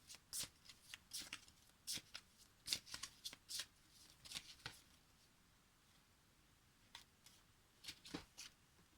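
Tarot cards shuffled by hand for a reading: a quiet, close series of crisp riffling bursts in irregular clusters, separated by short pauses.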